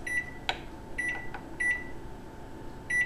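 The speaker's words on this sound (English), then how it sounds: "Place the chocolate in the microwave and microwave" A microwave oven hums steadily while heating chocolate for melting, punctuated by several short electronic beeps and a clunk, close and fairly loud.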